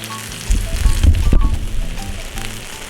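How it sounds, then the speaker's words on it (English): Freshly baked salmon, cooked well done, gives off a crackling sizzle close up, a dense hiss with popping bursts that swell in the middle and then settle, with no talk over it. "Hear that sizzle?"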